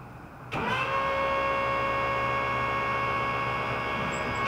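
A 6-volt electric motor converted to run on 12 volts drives the power convertible top of a 1948 Chevy, switching on abruptly with a clunk and then whirring in a steady, loud, even hum close by, with no talk.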